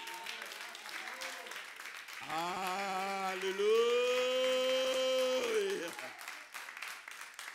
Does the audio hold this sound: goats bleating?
no